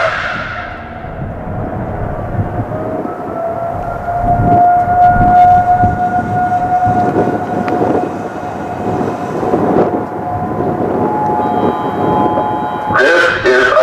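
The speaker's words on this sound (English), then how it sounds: "This is a test of the Monroe County Early Warning Siren System." A Whelen WPS-3016 tornado siren in La Salle, Michigan wails steadily during a test, holding a sustained tone with rising and falling swells, loud and outdoors, before fading near the end.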